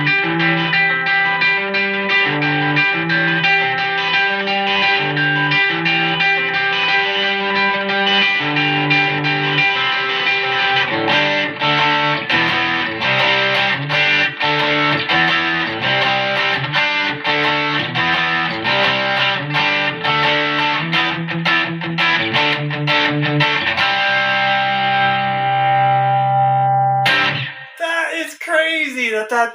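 Electric guitar played through a small budget amp dialed for a Vox AC30-style tone, with chords and riffs ringing loud and sustained, and a brief pause near the end before more playing.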